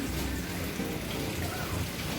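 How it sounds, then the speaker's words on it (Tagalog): Heavy rain pours down without a break, a dense and loud roar of falling water that fills the whole stretch. "biglang lumakas ang ulan"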